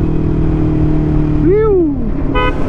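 Motorcycle engine droning loudly inside an SCTEX expressway tunnel, a steady roar with one rising and falling rev swell near the end, close and echoing.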